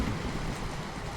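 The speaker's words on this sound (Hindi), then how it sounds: "जंगल में बारिश तेज हो रही थी।" Heavy rain pours down in a jungle as a dense, steady hiss that fills the whole short stretch, with no voices.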